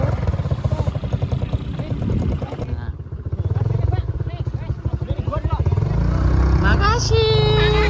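A motorcycle engine running close by with a pulsing putter, revving up near the end, while people talk over it.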